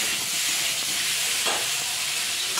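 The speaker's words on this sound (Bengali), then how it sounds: "সবজিটা এবার মশলার সাথে বেশ ভালো ভাজা ভাজা হয়ে গেছে" Vegetables fry with spices in a pan, giving a continuous close hiss and sizzle with a faint stirring scrape partway through.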